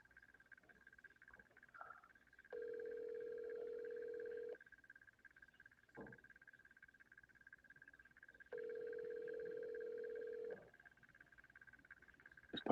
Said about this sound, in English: Is Parker actually not going to answer the phone?